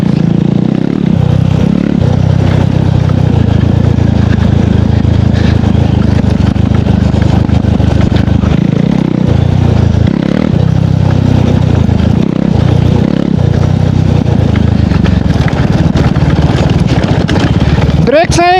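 KTM Duke 390 motorcycle engine runs loud and close, a steady throaty rumble that rises and dips with throttle changes over wind noise, and a voice talks over it.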